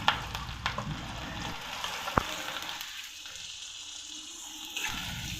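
Ginger, green chili, garlic and onion sautéing in oil make a gentle continuous sizzle with a few sharp ticks and a scrape, moderately quiet and close.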